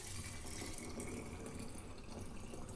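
Warm water pours steadily into a canning jar in a soft, continuous stream, fairly faint and even, with no voices.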